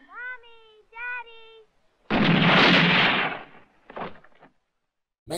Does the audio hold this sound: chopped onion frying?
no